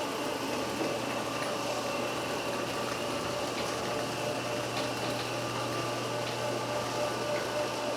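A wood-stripping machine cuts boards into thin strips for basket weaving, giving a continuous mechanical drone with steady hum and faint rattling, moderately loud and unbroken, with no talk.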